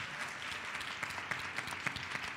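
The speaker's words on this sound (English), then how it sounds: "One more time, let us give all of them a round of applause." Quiet applause from a town hall audience for the panelists, a soft, steady patter of many hands with a few sharper claps standing out, heard from some distance.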